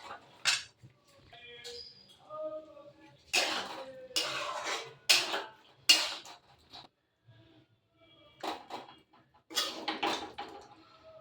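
Cooked turnip, potato and moong dal curry being served from a pot into a dish, with a series of scattered metallic clinks and scrapes of a spoon against cookware, separated by quiet gaps.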